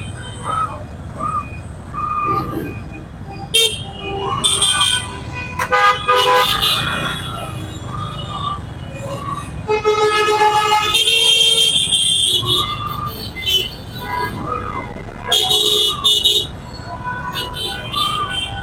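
Busy road traffic with buses and many motorbikes, car and vehicle horns tooting repeatedly over a steady engine rumble, someone talking throughout.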